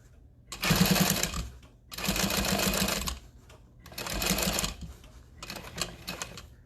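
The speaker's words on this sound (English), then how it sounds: "I'm going to go ahead and sew about 3 stitches past where I started" A sewing machine stitches a tote bag in four bursts of rapid, rhythmic whirring, each a second or so long and separated by short pauses.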